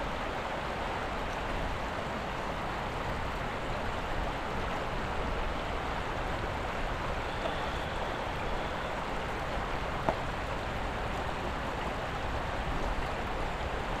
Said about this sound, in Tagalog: Talagang lagos-los lang ng tubig maririnig nyo.